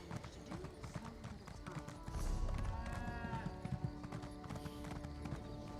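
Horse hooves in the video game Elder Scrolls Online clip-clop at a steady trotting rhythm under a busy game soundscape of background music and effects, moderately loud and continuous.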